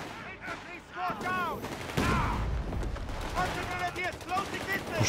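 Heavy gunfire bursts in Company of Heroes 3, loud and repeated, with speech running underneath and over the shots.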